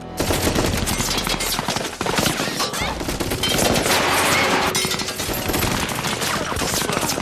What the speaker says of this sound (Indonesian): dilanjutkan dengan tembakan senjata otomatis